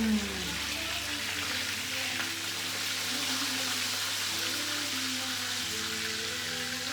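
Veal schnitzel frying in hot oil in a pan, a steady dense crackling sizzle holding at an even level throughout, close up, with no talking.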